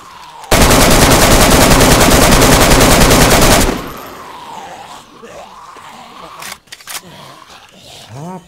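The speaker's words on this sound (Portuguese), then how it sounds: "Não, sou eu que tô atirando." A sustained burst of automatic gunfire in the video game DayZ, loud and continuous for about three seconds, followed by quieter game ambience and distant voice-like sounds.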